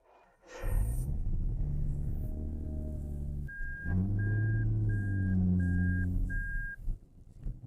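A car cranks and fires up after a jump from a small booster pack, then idles and rolls toward a garage, a steady engine rumble with a repeating electronic warning beep sounding in the middle.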